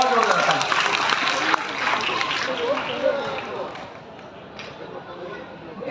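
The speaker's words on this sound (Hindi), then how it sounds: "उसके लिए बहुत जोरदार ताली, बहुत जोरदार ताली" Audience at an outdoor environment quiz competition applauds a young child, dense clapping that starts loud and gradually thins out and fades.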